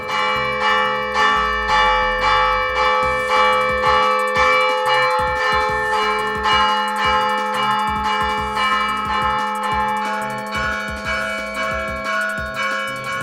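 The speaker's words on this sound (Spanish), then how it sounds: "Esas campanas son hechas en bronce, son 2 campanas hechas en bronce." Two bronze church bells ring in a steady, repeated rhythm, their bright metallic tones overlapping and sustaining loudly for the whole stretch.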